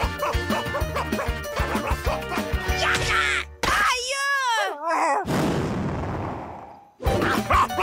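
A dog barks and yips loudly amid music and other noisy sounds, including a whining, wavering cry and a burst of hissing noise.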